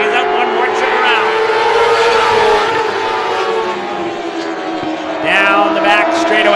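Race cars on the final lap of a Classic Lite feature at Star Speedway, engines droning loud and steady with rising and falling pitch as cars pass, under a continuous announcer's voice.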